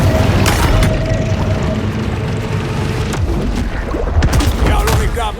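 Torpedoes exploding underwater in the shark game Maneater, a loud sustained rumble of blasts with sharp bursts and churning water throughout.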